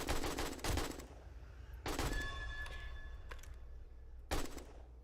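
AK rifle fire in the survival game 7 Days to Die, sharp bursts of gunshots with a pause between each, followed by a fainter metallic ringing, with no talk.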